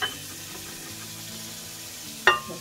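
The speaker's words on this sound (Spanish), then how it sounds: "En lo que la cebolla se sofríe" Onion softens in a frying pan, a faint, steady sizzle running under quiet kitchen sounds, with a sharp clatter of a utensil near the end.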